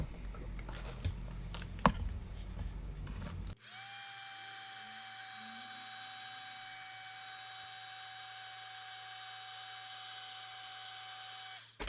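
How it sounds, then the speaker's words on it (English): A handheld heat gun blows steadily while melting embossing powder on a stamped glass jar, after a few seconds of rustling craft handling; the even whirring hum runs alone without talk for about eight seconds. "Once you apply your heat gun, it'll melt."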